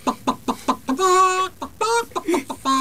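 A man on a Buenos Aires community radio broadcast imitates a hen with his voice, giving a run of short clucks that stretch into longer drawn-out squawks, loud and close, with nothing else underneath.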